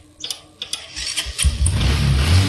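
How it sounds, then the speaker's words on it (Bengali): A second-hand motorcycle at a used bike dealer in Bangladesh is started: a few quick cranking bursts catch, and the engine rises into a loud, close, continuous running rumble. "এই বাইকটির সাউন্ড কন্ডিশন আপনাদেরকে শোনানোর চেষ্টা করতেছে"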